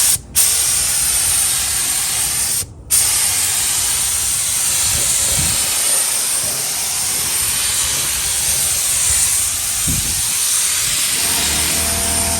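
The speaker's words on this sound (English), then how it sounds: "So let's give this tire a spray." Tire shine sprays onto a car tire in a close, loud hiss that cuts out twice briefly before a long unbroken spray.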